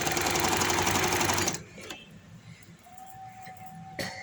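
Sewing machine running fast and steadily while stitching organza trim onto palazzo trousers, a dense close whir lasting about a second and a half before stopping, followed by quiet handling and a short click.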